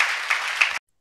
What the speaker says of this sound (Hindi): तालियां बजाकर प्रभु को महिमा दीजिए।